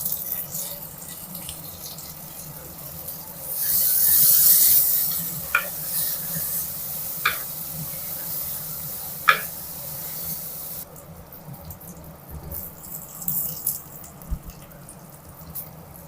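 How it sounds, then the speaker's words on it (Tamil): Tomatoes sauté with onion and garlic in a pan for crab curry. A soft, steady sizzle and hiss runs throughout, broken by a few brief clinks and scrapes of stirring. "தக்காளி போட்டு நல்லா வதக்கிக்கலாம்."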